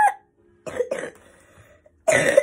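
A person coughs in short bursts, one at the start, a pair of hacking coughs in the middle and a louder cough at the end, heard up close with quiet gaps between them.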